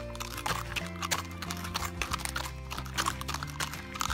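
Pony hooves clop at a slow walking pace during a pony ride, steady and close, over a low humming background and faint ambient noise.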